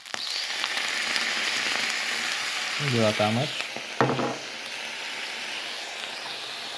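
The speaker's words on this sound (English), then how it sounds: "I'm going to let it sizzle on the bottom for a bit." Soy sauce hitting a hot frying pan of egg fried rice, a steady bright sizzle throughout with a louder hiss burst midway, while a voice speaks briefly near the end.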